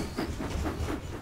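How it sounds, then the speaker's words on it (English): Cartoon steam tank engine rolling along the railway track toward the docks, a steady rhythmic chuff and rumble of wheels on rails, close and continuous without any voices. "And Thomas puffed off to the docks, his wheels whirring with worry."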